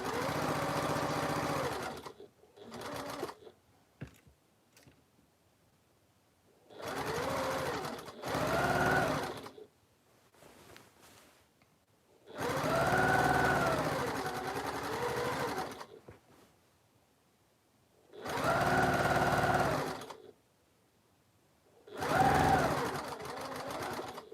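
A sewing machine stitches a quilt border for a Double Carpenter's Star quilt in several bursts of steady whirring, each a few seconds long, broken by quiet pauses.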